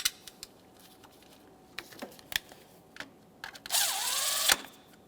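A power tool briefly whirs close by as it drives in the ignition coil mounting bolt on the valve cover of a 2014-2018 Mazda 3 2.0L, preceded by scattered clicks and taps.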